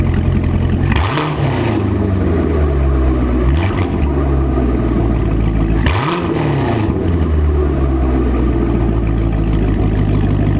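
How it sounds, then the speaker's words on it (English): A deep, throaty V8 engine of a C7 Corvette Stingray revs up repeatedly in loud rising bursts over a rumbling idle, close by. "That is a V8 engine for you right there."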